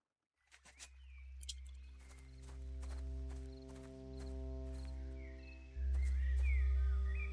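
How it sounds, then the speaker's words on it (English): Footsteps echo through the main rat cave in the video game Lords of Xulima: a handful of soft, hollow, evenly paced steps over sustained low, tonal background music. "You hear the sound of your footsteps echoing as you walk through the main cave."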